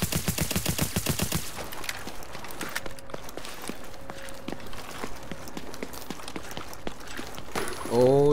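Rapid handgun fire in a video game rattles in a burst at the start, then gives way to scattered footsteps and small clicks, with a brief electronic tone at the end.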